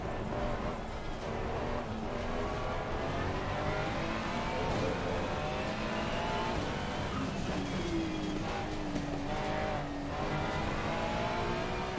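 A Ferrari race car in Assetto Corsa Competizione, driven on a wet track, holds a steady loud engine drone with rising and falling revs through gear changes for the whole stretch, with no talk.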